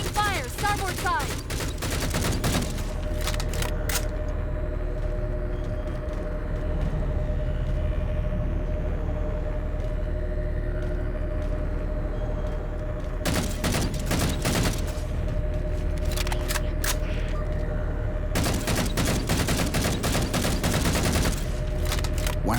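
Heavy bursts of gunfire rake a ship in the Halo 4 video game, coming in several loud volleys over a steady low engine rumble, with quieter stretches between the barrages.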